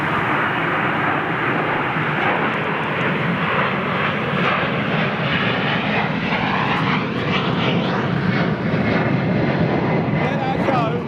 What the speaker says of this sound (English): So I've got the Perth-bound Dreamliner lined up at the moment.